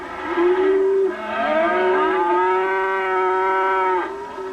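Cattle on a working ranch where horses are used to move the herd, giving long, loud, drawn-out moos close by, several overlapping calls in sequence with no talk.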